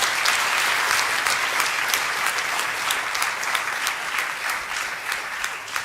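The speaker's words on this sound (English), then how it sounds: "Please give him a big round of applause." An audience at a laptop distribution event in Hyderabad gives a big round of applause, steady and close, with individual claps standing out clearly as it slowly tapers over several seconds.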